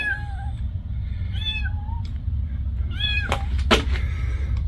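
A cat gives several short, clear meows spaced a second or so apart, fairly close by, over a steady low background rumble with no talking.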